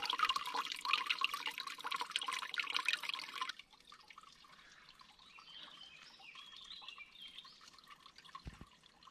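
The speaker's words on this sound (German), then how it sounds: "Jetzt wird endlich Wasser geholt." Water being fetched outdoors in the wild, running and dripping: a steady splashing trickle for the first few seconds, then quieter drips and faint flow continuing alone.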